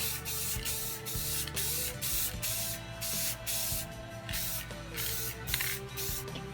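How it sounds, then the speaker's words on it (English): Krylon gloss clear coat sprays from an aerosol can in a run of short, loud, close hissing bursts with brief gaps between them, over a low hum and no talk. "So I'm just going to apply the final clear coats. I'll use some Krylon gloss clear"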